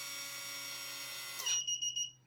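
A smart water meter vending machine sounds its alarm: a steady electronic tone rises into a sweep, then sharp repeated high beeps pulse several times before cutting off, close and clear.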